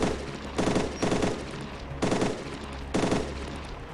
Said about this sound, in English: try and suppress him a little bit with a bit of fire.